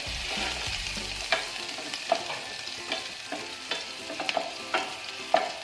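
Finely chopped garlic and ginger stir-fry in a pan for chilli chicken gravy, giving a steady loud sizzle broken by regular scraping spatula strokes.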